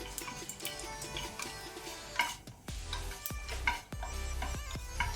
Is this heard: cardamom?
yes